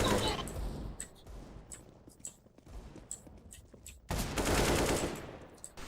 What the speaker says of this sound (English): Wow, shooting.